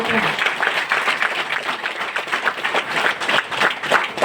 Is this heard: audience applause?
yes